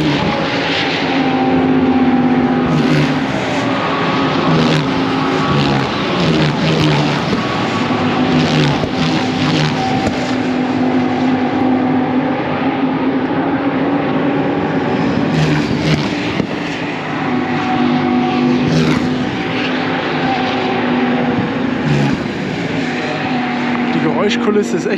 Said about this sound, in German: Die Geräuschkulisse ist echt lustig, weil die fahren hier über die Curb.